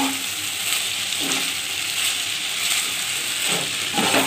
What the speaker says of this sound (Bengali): করলাটা অনেকটাই ভাজা হয়ে এসেছে